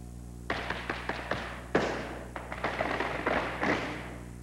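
Celtic dance footwork produces a series of quick shuffling taps and firmer thuds, one solid bang standing out, in a steady rhythm on a hard floor at low volume.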